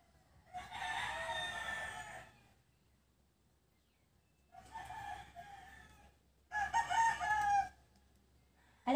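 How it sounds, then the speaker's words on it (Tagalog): Chickens and a rooster crow nearby in three loud, drawn-out calls separated by brief silences, with a faint low hum underneath. "Nag-iingay yung mga chicken natin dyan."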